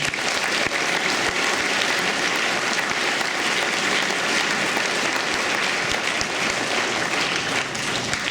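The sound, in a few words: audience applause for a veteran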